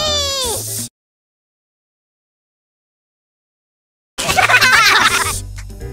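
A puppy whimpers and cries in short high, wavering yelps, loud and close, with a long silent gap between two bursts.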